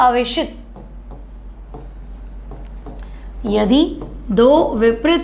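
A teacher in a chemistry lesson writes on a board with faint scratchy strokes in the gaps, while a nearby voice talks over much of it.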